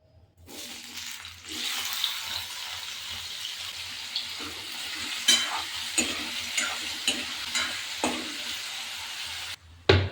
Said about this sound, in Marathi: आता हे उपवासाचं तेल आहे आपलं आणि बटाटा टाकूया फ्राय करायला